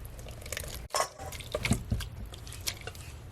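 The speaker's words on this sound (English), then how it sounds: "we're going to add our wet ingredients into our dry ingredients" Wet ingredients poured into a bowl of dry ingredients for carrot and apple muffin batter: close, soft wet drips and squelches with a sharp dip and a small splash partway through.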